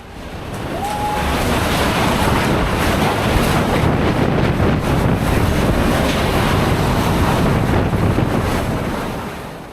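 Hurricane surf and gale-force wind batter the Outer Banks coast of North Carolina in a loud, unbroken roar of crashing waves and wind buffeting the microphone, with no voices.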